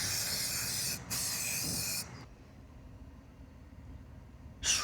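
Glue hisses from a spray can inside a camping truck in two steady bursts of about a second each, followed by quiet and then the start of a third short spray, close and loud.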